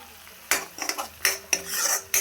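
Spices sizzle in oil for a jackfruit curry as a spoon scrapes and clanks against the pan in several sharp strokes, close and fairly loud.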